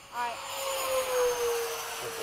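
A Freewing 90mm F-15 RC jet with a custom 13-blade ducted fan climbs past, its rising whine sweeping in and then falling away as it goes by, loud and fairly close, with faint chatter in the background.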